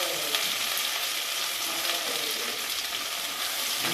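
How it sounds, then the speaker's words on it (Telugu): Onions fry steadily in a hot pan while pulagam is being prepared, giving a dense, even sizzle that holds at a constant level for the whole stretch with no voices over it. "ఇది బాగా ఫ్రై చేయాలి."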